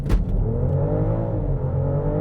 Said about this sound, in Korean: 정말 놀라운 수준의 가속력을 보여주고 있습니다.